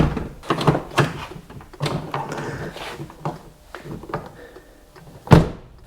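A Volkswagen Golf Mk5 TDI car door swings shut with one solid, close thunk near the end, after scattered handling knocks and rustles.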